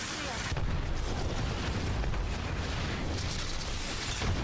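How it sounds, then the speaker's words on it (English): Grenade blast in the Apex Legends battle royale shooter, a loud sustained boom with rumbling low end and a long dense tail filling the whole span, with faint voices mixed in. "That's a good flipping nade"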